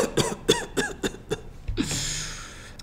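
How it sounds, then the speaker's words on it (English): A person fakes a sickly cough, about six short staged coughs in a quick regular series followed by a breathy exhale, close and clear with no talking. "So how convincing was my fake coughing and fake sickness?"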